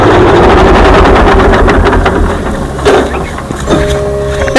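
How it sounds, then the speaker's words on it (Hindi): A tractor engine runs close by with a loud, steady low rumble and some rattling, and voices talk over it. "हम ट्रैक्टर लेके आए अपन खेत जोतवाऊ"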